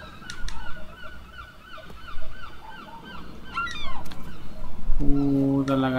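Seagull cries in the video game Rime, a series of honking, squawking bird calls over a soft ambient game background, growing louder and busier toward the end with a sustained tonal note.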